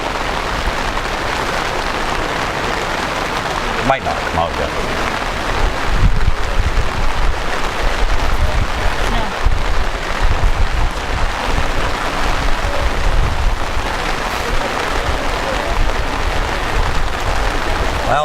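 Rain falls steadily on outdoor surfaces with some wind, a continuous wash of patter throughout, and a brief spoken remark near the start.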